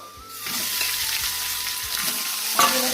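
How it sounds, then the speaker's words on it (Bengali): Pieces of meat sizzle in hot oil after onions, bay leaf and whole cumin have been fried, with a steady crackling fry broken by a few soft stirring scrapes and no talk. "তো মাংসটা হালকা করে ভেজে নিয়েছি"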